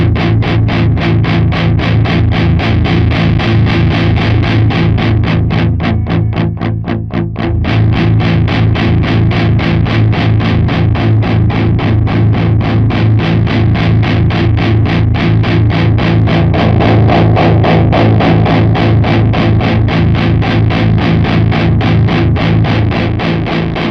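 An electric guitar plays through a Mooer Micro Preamp 008 Cali Mk3 pedal with its distortion engaged. Thick, heavily driven chugging riffs are played loud and continuous for the whole stretch, with no talking.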